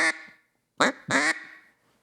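A hand-blown duck call imitates an aggravated hen duck, giving three sharp, nasal quacks: one short blast, a pause, then two close together, loud and near in an otherwise quiet setting.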